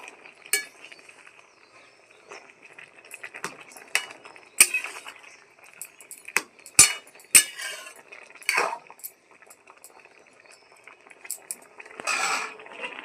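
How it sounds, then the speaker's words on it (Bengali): Metal clinks and scrapes as a lid comes off a pot and homemade tomato sauce is stirred, with scattered sharp utensil taps and a few brief bursts of rattling, close up with no talk. "ঢাকাটা আমি খুলে নিচ্ছি একটু নেড়ে দেবো"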